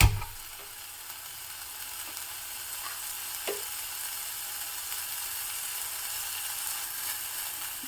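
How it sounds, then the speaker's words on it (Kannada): Onion stalks sizzle and fry steadily in a pan for a traditional Hebbar Brahmin-style dish, with a continuous crackling hiss, an initial louder burst and occasional scraping stirs, with no talk. "ಇದನ್ನು ಒಮ್ಮೆ ಚೆನ್ನಾಗಿ ಹುರ್ಕೋತಾ ಇದ್ದೀನಿ."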